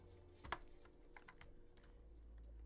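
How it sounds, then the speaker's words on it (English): Close computer keyboard typing during an Overwatch 2 voice-chat session, a sparse run of quiet individual key clicks with one sharper press early on and faint background hum. "Who's typing to them?"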